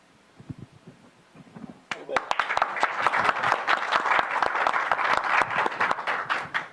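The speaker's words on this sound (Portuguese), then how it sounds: "Essas palmas para os nossos convidados, o Marçal," An audience at a literary debate bursts into loud sustained applause after a few seconds of talking, many hands clapping densely and steadily until the end.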